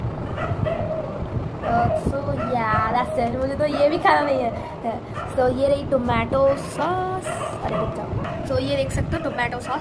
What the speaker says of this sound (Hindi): गाइस अभी थोड़े से कुत्ते भौंक रहे हैं, तो प्लीज़ इग्नोर.